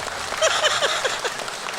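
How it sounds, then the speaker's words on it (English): Audience applause greeting the host of a stand-on comedy show, a steady mid-level wash of clapping lasting under two seconds, close and fairly even. "Thank you for the jaded applause."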